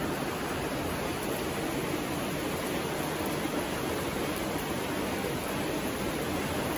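Steady rain pours outdoors in the hills of Takdah, an even, dense hiss that holds unbroken from start to end with no voices.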